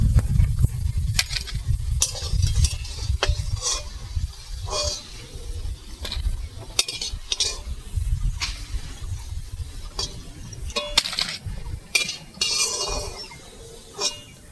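Onion fritters (peyaji) frying in oil give a low bubbling sizzle. Frequent clinks and scrapes of a utensil against the pan punctuate it, and a low rumble runs underneath.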